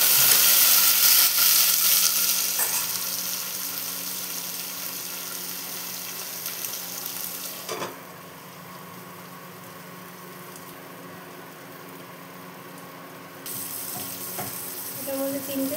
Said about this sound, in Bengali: এটাও ভালো মতো ভেজে নিতে হবে।